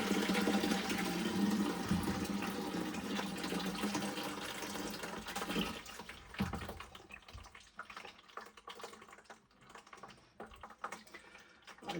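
Water draining out of a Navien NPE-240S2 condensing tankless water heater into a bucket during descaling, a steady broad gushing pour for about six seconds that then thins to a weaker, uneven trickle with scattered drips.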